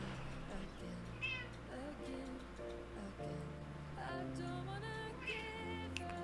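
A house cat meows several times close by, the tonal calls rising over a steady background of music and game audio during a live stream.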